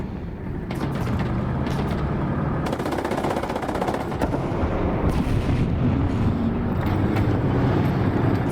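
Tank machine gun bursts in a tank combat video game set around a Panzer IV and T-34, a dense run of rapid rattling fire over a steady engine and battle rumble, with several short sharp bursts throughout.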